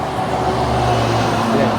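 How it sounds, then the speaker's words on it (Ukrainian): Steady road traffic noise with a low engine rumble, continuous and fairly loud, with no distinct vehicle passing. "Фу, трафік, шумно."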